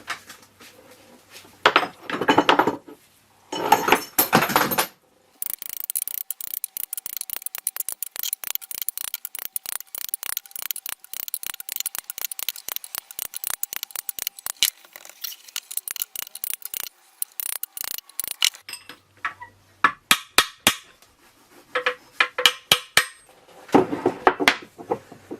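A bearing is driven into a classic Mini gearbox with a hammer and drift: dense runs of sharp, close metallic taps in steady rapid bursts, with brief pauses between groups.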